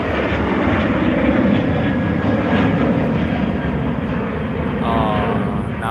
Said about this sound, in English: Here comes a Virgin Australia 737-800